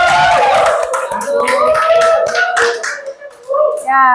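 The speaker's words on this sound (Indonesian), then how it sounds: "Tepuk tangan buat kelompok 1." Classroom group applauding a presenting group during a teacher training session, a steady burst of handclaps mixed with talk and cheering voices over about four seconds.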